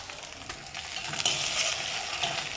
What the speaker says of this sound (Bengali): এই সব উপকরণগুলোকে খুব সুন্দর করে একটু ভেজে নিচ্ছি